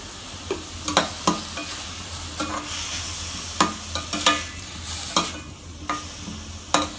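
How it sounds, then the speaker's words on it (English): Onions sizzle and fry in a pan over a medium-high flame, a steady crackling hiss broken by sharp scraping clicks as a spoon stirs them every second or so. "Let it cook on a medium-high flame until the onions are brown."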